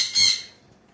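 A single sharp, loud squawk from a high-mutation lovebird, close and brief, fading quickly into quiet.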